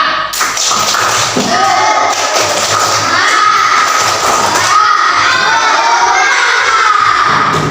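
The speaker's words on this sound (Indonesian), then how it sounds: "mana tepuk semangatnya?" Schoolchildren in a classroom perform a rhythmic spirit clap while shouting together, a loud, dense burst of young voices and hand claps that carries on steadily throughout.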